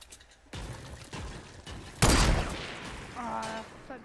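Distant gunfire in Fortnite, a few muffled shots and a burst during a battle royale match, faint under game ambience, with a louder impact near the middle and short game tones near the end.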